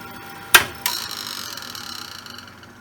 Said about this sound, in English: That sounds bad, like something scraping against the platters.